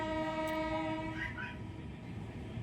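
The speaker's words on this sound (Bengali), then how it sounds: "ট্রেনের আওয়াজও শুনতে পাচ্ছেন আপনারা।" A train rolls slowly past in the Dooars region, a steady rumble with a long horn blast near the start, moderately distant and fairly quiet against the outdoor background.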